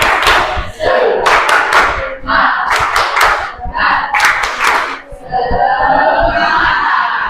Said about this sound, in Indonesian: Silakan semuanya tepuk semangat.